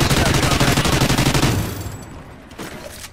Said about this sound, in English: Juggernaut with the minigun.